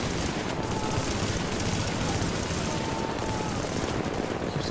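Automated turret in The Division laying down steady, dense gunfire, a continuous loud rattle of shots with no pauses and no talk over it.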